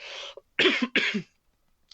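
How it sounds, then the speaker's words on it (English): A man coughs in two harsh, close bursts, with a shorter throat sound before them. He has a dry, tickly throat from the dry air, and there are brief silences between the coughs. "Apologize for the coughing."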